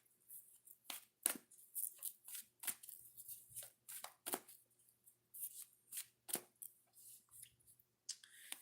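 Oracle cards being shuffled and drawn, a quick run of crisp riffling and slapping bursts at a close, quiet level, with short gaps between strokes.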